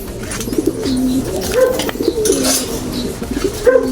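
Several pigeons coo close by, their soft rolling calls overlapping in a steady murmur with faint chirps and rustling in the background.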